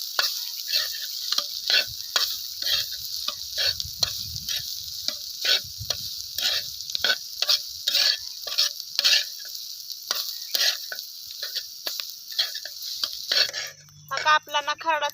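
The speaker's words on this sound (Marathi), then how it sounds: "मस्त असं हे परतून घ्यायचंय आपल्याला चांगला रंग बदलतोपर्यंत" Fresh peanut kharda is stir-fried in a pan over a wood-fired chulha, with rhythmic scraping spatula strokes repeating over a constant sizzle, close and fairly loud, until a different clatter at the end.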